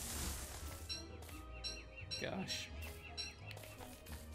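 Bird chirps and short flaps of wings from a crow in the video game Don't Starve, sounding in quick bursts over game ambience while a person talks briefly.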